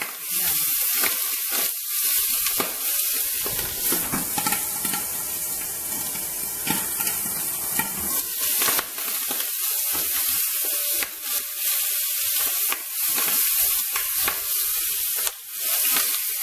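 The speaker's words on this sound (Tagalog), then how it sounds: "Ipiprito na po natin." Adobo fries in hot oil in a frying pan, a loud, continuous hiss and crackle with occasional spatters and stirring, steady throughout.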